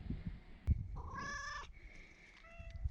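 A cat meows once clearly at close range, a drawn-out tonal call, followed by a fainter, shorter meow, with soft handling rustles and thumps around it.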